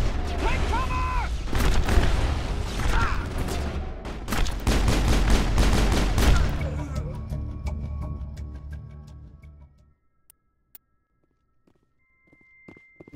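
Rapid bursts of gunfire in the Mass Effect video game, dense and loud for about six seconds alongside game voices shouting, then tapering off into quiet with a few scattered clicks.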